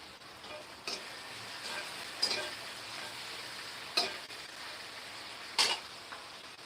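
Onion and tomato frying on medium gas, a quiet continuous sizzle broken by a few sharp stirring clinks of a utensil against the pan, spaced a second or two apart.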